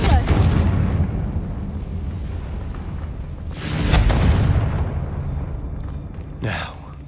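A Confringo blasting spell explodes in the Hogwarts Legacy video game with one loud, booming burst midway through, followed by a smaller pop near the end, all over a constant game soundscape.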